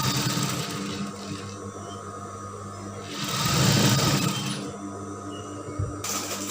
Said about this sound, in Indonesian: kemudian kita jahit sisi bagian lengannya